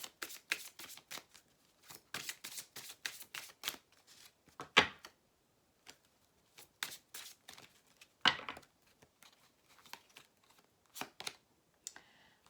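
Tarot or oracle cards are handled and laid out for a weekly reading, making close, crisp snaps and slides in short irregular bursts with quiet gaps between.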